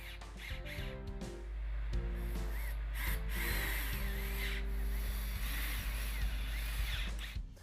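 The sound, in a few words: power drill driving pocket hole screws into southern pine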